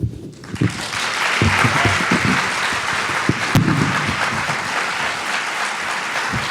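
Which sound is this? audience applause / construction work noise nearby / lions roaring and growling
audience applause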